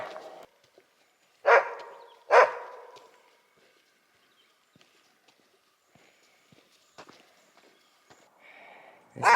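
Dogs kept in cages bark in a few sharp, loud bursts early on, then quieter scattered knocks and movement follow, with another bark right at the end; no talking.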